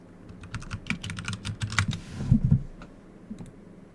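Rapid clicking keystrokes on a computer keyboard, typing a search into a browser, run steadily for a few seconds with a few heavier taps before trailing off.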